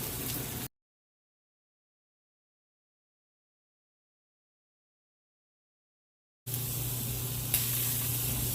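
A ribeye steak sears in a cast iron pan with a steady sizzle at the start and end, separated by a long stretch of complete silence.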